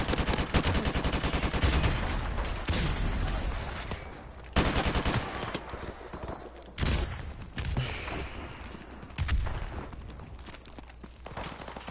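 Gunfire rings out in the Modern Warfare Remastered video game, a steady barrage of loud, close shots and bursts over twelve seconds, with heavier single reports standing out every second or two.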